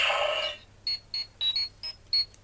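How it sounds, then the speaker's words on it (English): A short burst of noise, then a string of six high electronic beeps in an uneven rhythm, fairly quiet and close, from a Power Rangers Super Megaforce Deluxe Legendary Morpher toy's communicator. "And we get the communicator beep"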